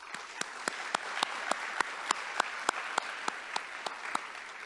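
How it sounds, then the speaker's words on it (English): An audience at a National Signing Day ceremony applauds parents and coaches: a fairly soft wash of many hands clapping, with a few sharper, louder claps standing out at regular intervals above it. "So please join me in applauding our parents and coaches."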